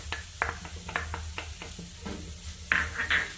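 Ground paste for hummingbird flower thoran is stirred into the hot pan with a spoon, giving quick scraping strokes over a soft sizzle. A few sharper clinks of the spoon against the pan come near the end.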